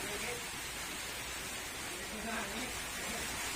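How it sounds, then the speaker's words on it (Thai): Steady rain falling outside a car repair workshop, an even, dense hiss with no breaks, fairly loud and continuous. "โอ้โหฝนตกแล้วนะครับ"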